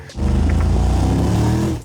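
Open-top convertible sports car exhaust, a steady loud engine note with rich low rumble, sustained close for nearly two seconds before cutting off.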